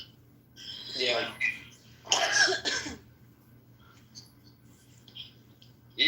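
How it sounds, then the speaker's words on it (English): Two rough, breathy coughs sound up close, followed by quieter faint noises against a low steady hum. "your cough is back"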